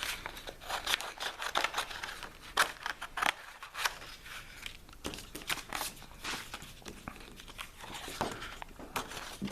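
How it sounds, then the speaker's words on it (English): Scissors cutting around a shape in card for a cupcake box, a quiet run of close, irregular snips and papery crunches with no talking. "with the scissors, the best thing to do with the scissors is to just go around"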